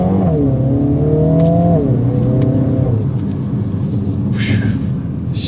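A 2023 Mini JCW Countryman All4 revs and accelerates hard through a couple of rising gear pulls, loud and close, before easing off into a quieter cruise with road noise.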